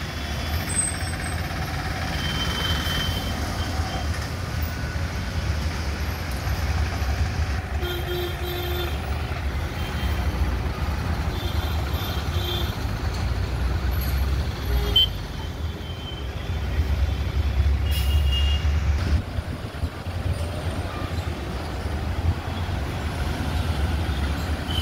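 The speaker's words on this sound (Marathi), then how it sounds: "पाचवड फाट्यापासून ते कोल्हापूर नाक्यापर्यंत पूर्णपणे वाहतूक जामिंग आहे" Trucks and buses sit jammed on the highway near Karad, with a steady low engine rumble, occasional hissing air brakes and faint beeps rising over continuous traffic noise.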